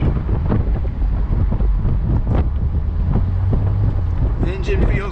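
Steady, heavy wind buffeting a microphone from a 2006 Audi TT Roadster 1.8T in motion with the top down, with a low rumble underneath and brief muffled talking.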